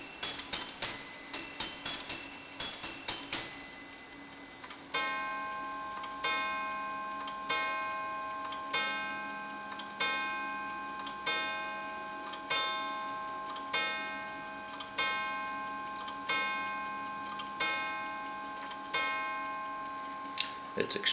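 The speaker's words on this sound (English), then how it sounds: "strike the number of quarters and the number of hours when you press the repeat button" A rare Westminster carriage clock with nested bells strikes on its repeat button, first a quick cluster of quarter chimes, then a long, even series of ringing hour strikes, each one decaying before the next.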